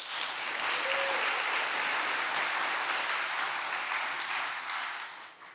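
An audience at a school culmination ceremony claps steadily in a dense, continuous burst that tapers off near the end.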